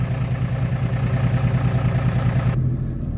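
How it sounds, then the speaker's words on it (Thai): A farm tractor engine idles loud and close with a steady low throbbing rumble and a faint clatter, running unbroken with no voices, then the upper hiss cuts away near the end while the low drone continues. "ก็จะไปขับเอารถไถครับ"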